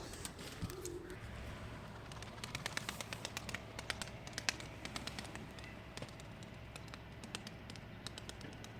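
Soft pigeon cooing sits low in a quiet outdoor scene, with scattered light taps and clicks throughout.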